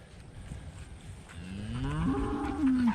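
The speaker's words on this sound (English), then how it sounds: "there goes all the mama cows and the bulls bringing up the rear" Cows and bulls on a farm moo while being herded along, a low drawn-out bellow rising and swelling over a busy background of shuffling herd noise, ending with a loud close call.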